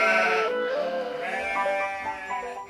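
Goats bleating in a mountain village, several drawn-out, wavering nasal calls overlapping one another, fairly close and steady in loudness.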